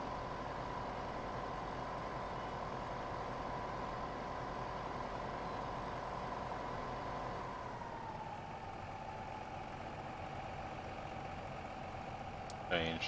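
Farm vehicle driving in Farming Simulator 15, a steady droning engine hum with a slight drop in pitch midway, continuing without a break under low background sound.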